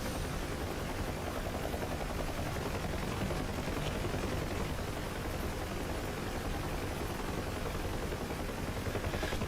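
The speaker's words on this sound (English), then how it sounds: "We are getting some bullet impacts though" Sustained dense crackle of incoming gunfire striking a UH-1H Huey helicopter in the DCS flight simulator, a steady broadband rattle blended with the rotor and engine drone, loud and continuous with no talk.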